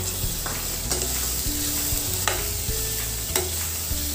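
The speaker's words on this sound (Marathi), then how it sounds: "टोमॅटो परतून घेणार आहोत" Finely chopped tomatoes sizzle in hot oil while a spoon stirs them in a pan, a steady frying hiss broken by scraping strokes and light clinks, close and fairly loud with no voices.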